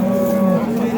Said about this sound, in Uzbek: O'ta katta sigir ekan jonivor.